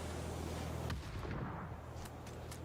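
A grenade goes off in a competitive online shooter match, a dense muffled boom with a rumbling low-end tail at moderate distance, followed by a few sharp crackles and clicks.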